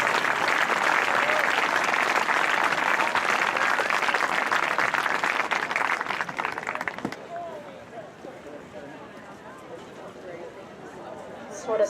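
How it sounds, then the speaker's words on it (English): An Indigenous Peoples Day audience gives a long round of applause for speaker Sherri Mitchell, dense and loud for about seven seconds before thinning into scattered claps and murmuring. "big round of applause for her"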